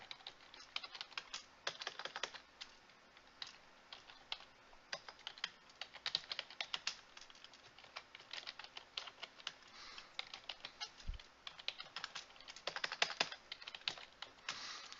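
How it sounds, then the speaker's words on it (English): Typing on a computer keyboard: rapid, uneven clusters of close, crisp key clicks with brief pauses run throughout, and no one speaks. "So I'm typing updates."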